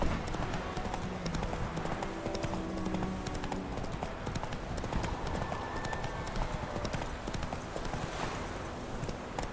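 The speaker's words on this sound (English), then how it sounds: "Whoa there, Roach. Take it easy." Hooves clip-clop in a steady rhythmic trot as the horse Roach moves along in The Witcher 3 video game, close and continuous, with a brief whinny and faint game voices underneath.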